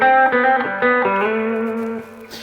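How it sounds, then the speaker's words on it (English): Electric guitar with the pickup on the bridge position in humbucker mode, played through a Fender Super Champ XD amp with reverb: a few picked notes and a sustained chord ring out loud and alone, with a lingering reverberant tail. "Okay, so the reverb's pretty good"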